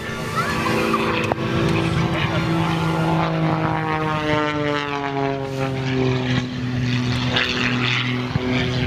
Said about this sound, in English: What a pleasure to be able to throw an aircraft around the skies like that